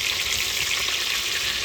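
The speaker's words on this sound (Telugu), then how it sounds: "తాలింపు వేగిన తర్వాత ఆయిల్లో వేసి చక్కగా ఫ్రై అవ్వనివ్వండి" Chopped onions and green chillies frying in hot oil with tempering spices, cooked over a wood-fired stove, giving a dense, continuous, close sizzle with no pauses.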